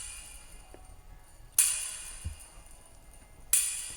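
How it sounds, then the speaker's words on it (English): A simple tambourine hit with plate reverb in a 60s Motown-style pop production: two bright jingly shakes about two seconds apart, each trailing off into a shimmering reverberant tail over a quiet background. "a simple tambourine with a plate reverb"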